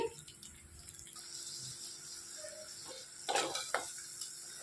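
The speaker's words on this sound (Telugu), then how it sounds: "ఈ విధంగా కలిపేసుకొని ఒక 5 నిమిషాలు ఉడికించుకోవాలి." Crab curry with masala being stirred in a pot, a low steady simmering hiss with light scraping of a spoon and a brief clatter near the end.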